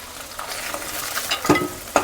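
Fish heads fried in hot oil in a pan, lifted out with a metal spatula: a steady close sizzle marked by a few sharp scraping clinks toward the end.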